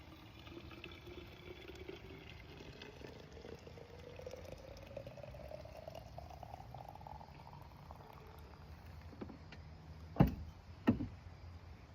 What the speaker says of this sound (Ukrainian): Boiling water. І заливаємо.